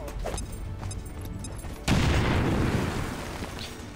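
Grenade blast in XCOM 2: a few faint clicks and thuds first, then a sudden loud, broad explosion that rumbles on and slowly decays.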